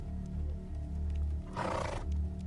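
A horse whinnies once, a short loud neigh rising out of a low droning background, used as a sound effect in a narrated Australian outback story.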